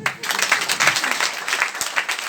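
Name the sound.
audience applause at a seminar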